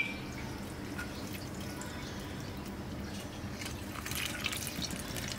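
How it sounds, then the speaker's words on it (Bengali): Vinegar is poured from a bottle over a batch of chillies, making a continuous close trickling and splashing of liquid that swells slightly toward the end, with no talking. "একবারে ঢেকে ভিনেগার দিতে হবে যেন পুরা মরিচটা ভিজে থাকে"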